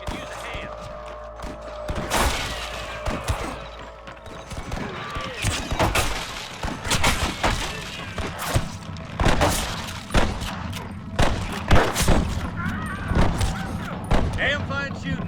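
Shootout in the video game Red Dead Redemption, with repeated loud gunshots cracking in irregular bursts, some close together, over a background of scuffling and mechanical clatter.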